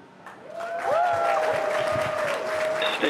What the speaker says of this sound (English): if you can hear that cheering, everyone here at Hawthorne is very excited